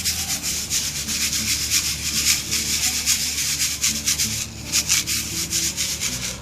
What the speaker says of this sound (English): So we'll have to filter it until all of that fine dust has dropped through the filtration.